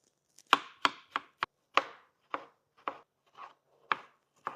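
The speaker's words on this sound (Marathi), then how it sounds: "आपण आता टमाटर कट करून घेऊ" A knife chops tomatoes on a cutting board for a soup, about a dozen close, crisp cuts in a slightly uneven rhythm, alone without talk.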